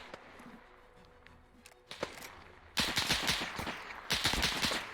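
Gunfire in a trench battle video game set at the Battle of Raate Road: scattered single shots at first, then from about 2.8 seconds dense, loud bursts of rapid fire that pause briefly and resume.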